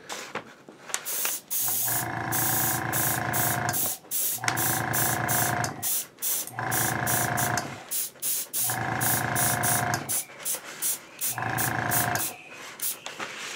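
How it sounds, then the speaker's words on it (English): A high volume airbrush sprays Alumaluster chrome paint onto a Mandalorian jetpack prop, making five loud, steady hissing bursts of one to two seconds each with brief gaps and clicks between them. "today I'll be applying most of it with my high volume airbrush"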